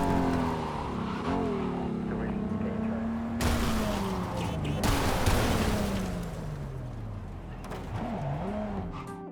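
A car driven by the AI in Cyberpunk 2077 on PC, with a steady engine drone whose pitch rises and falls, plus bursts of noisy crashes or impacts midway through; no one talks.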